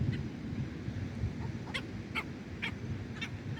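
Several short honking bird calls ring out one after another over a low, steady outdoor rumble with crickets, fairly distant and moderately loud, in Redington Shores, Florida.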